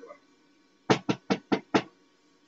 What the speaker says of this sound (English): I knocked. I knocked again.